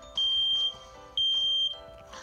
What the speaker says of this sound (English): Tap on the smoke alarm so that I can test it before we go.